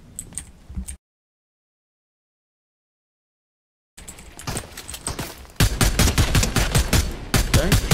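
Gunfire in the Fortnite video game: after a brief dropout, dense bursts of shots rattle out, then grow louder into rapid, close, repeated volleys with no talking.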